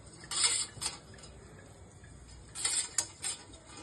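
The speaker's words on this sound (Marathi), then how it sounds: "त्याच्यावर चाळणी ठेवूयात आणि थोडंसं वरती चाळणीला तेल लावूयात" A metal sieve set on a kadhai of boiling water and oiled, with light metallic clinks and taps in two short clusters, close and fairly quiet, over a faint background hiss.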